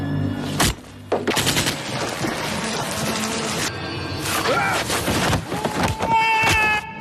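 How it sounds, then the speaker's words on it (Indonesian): Repeated gunfire in a film action scene, as shots are fired one after another at a man near a river, bursts of rapid shots dense and loud, mixed with music and other effects. "Tembakan demi tembakan dilepaskan, namun tak satu pun mengenai dirinya"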